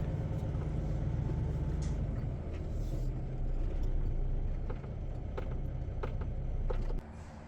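A truck towing a trailer maneuvers slowly on a road past parked cars, its engine a steady low rumble close by, with a few faint clicks and knocks over the drone.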